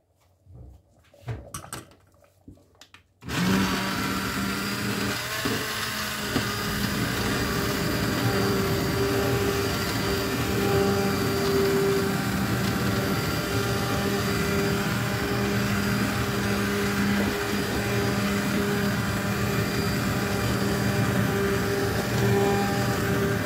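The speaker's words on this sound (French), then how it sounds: "Moi, j'aime bien la passer au pied mélangeur." An immersion blender purees red lentil dhal, a loud steady motor whir that starts abruptly after a few seconds of quiet clatter and runs on continuously.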